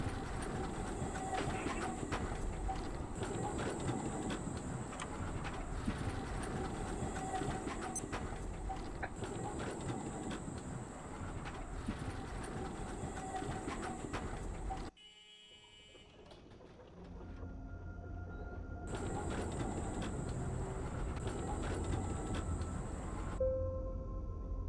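A tram riding on rails, with a steady rumble and rhythmic clatter of wheels over track joints, a brief quieter stretch mid-ride before the running noise returns, loud and close, no talk.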